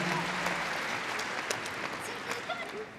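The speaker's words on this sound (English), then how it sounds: "give them a round of applause as they come up the finishing line" Crowd applause at a dog agility competition at Crufts, steady clapping from a large indoor audience over three seconds, with a commentator's voice and a few whistles or cheers.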